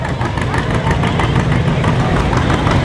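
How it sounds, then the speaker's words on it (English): A small two-cylinder Farmall Cub garden tractor engine idles in a steady, even drone, close and continuous with no speech over it. "You can hardly hear the little Farmall Cub."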